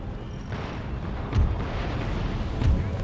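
Two deep, booming cannon shots roughly a second apart rise over a constant noisy rumble of battle in the video game Empire: Total War.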